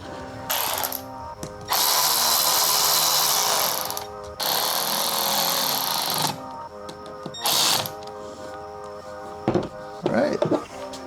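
Ratchet wrench tightening cylinder head bolts on a Nissan VG30 engine for a 300ZX, bursts of rapid close clicking separated by pauses, with a few metallic clanks of tools near the end.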